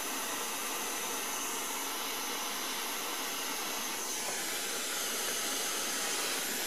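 A soldering torch flame hisses steadily and loudly while a new pressure relief valve is soldered onto a boiler, forming an unbroken broadband rush with a slight shift in tone partway through and no talk.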